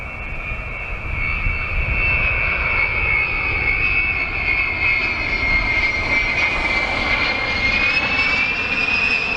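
Arriving aircraft come in low and slow on approach, their engines a loud, sustained roar with a steady high whine that rises slightly toward the end, continuous and without voices.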